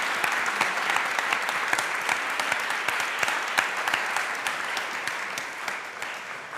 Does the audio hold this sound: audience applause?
yes